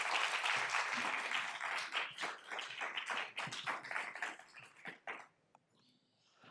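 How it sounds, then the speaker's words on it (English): Audience applauding at a school board meeting as an award recipient comes forward, a dense burst of many hands clapping that thins out and fades to a few scattered claps by the end. "Feel free to give him an applause while he's coming up"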